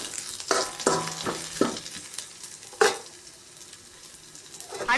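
Onions sauté in a pan under a low sizzle, broken by several sharp spatula scrapes and clacks in quick succession early on, a lone stroke a little later, then quieter frying before another scrape.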